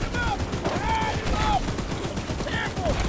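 Rapid, dense gunfire from the horror video game Choo-Choo Charles, a steady barrage lasting throughout, mixed with sweeping whistle-like tones from the game.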